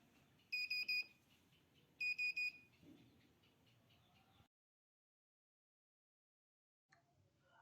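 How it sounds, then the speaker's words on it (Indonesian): The electronic buzzer on an ultrasonic water level monitor gives two quick bursts of rapid, shrill beeps, each a fast cluster of short tones, close and clear over a low background hiss that later drops to silence. "untuk buzzernya akan berbunyi cepat"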